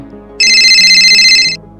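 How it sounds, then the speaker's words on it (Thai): A mobile phone ringtone in a Thai horror film, one steady electronic ring of bright sustained tones lasting about a second, loud and close over a faint low background. "เมื่อโทรศัพท์มือถือดังขึ้นครับ"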